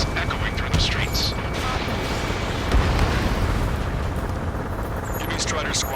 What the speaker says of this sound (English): with gunfire and the roar of jets echoing through the streets